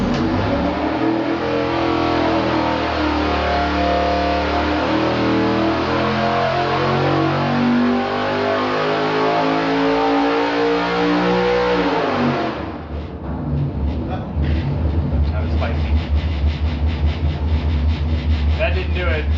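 A 4.8L V8 engine on a dyno pull roars close and loud, climbing steadily in pitch for about twelve seconds before the throttle drops off and it settles into a rough, lumpy burble.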